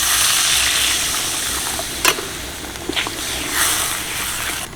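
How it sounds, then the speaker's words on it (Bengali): Water poured into a pot of cabbage and potato curry, a steady broadband hiss of liquid hitting hot spiced gravy with a few brief clinks and splashes midway. "এবার দিয়ে দিচ্ছি বেশ কিছুটা জল"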